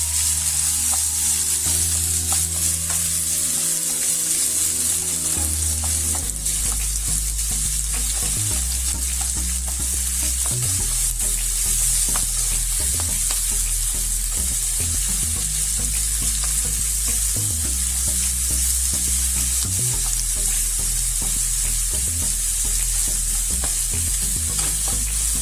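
Onions frying in a pan while being cooked to golden brown for mutton kala bhuna, a constant close sizzle with repeated spatula stirring scrapes and thumps, no voices.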